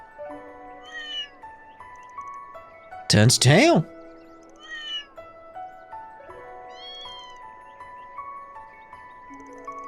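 Synthetic-sounding cat meows from the video game Trails Through Daybreak 2 repeat over game music, with one loud, harsh yowl partway through and a voice speaking briefly.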